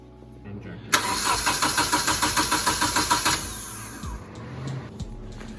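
A Nissan 240SX engine cranks with a steady rhythmic starter chug, about a dozen even pulses over a couple of seconds, then stops without catching; voices talk nearby before and after.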